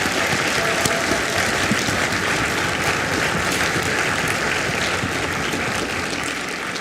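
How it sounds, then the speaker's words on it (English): Steady, dense applause from an audience at a high school winter band concert fills the hall, a continuous even wash of many clapping hands holding at a constant level throughout. "Let's give them a round of applause,"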